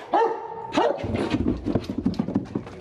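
A police K9 dog barks during training in an abandoned riverside building: two sharp, loud barks close by, followed by scuffling, thumping movement and panting.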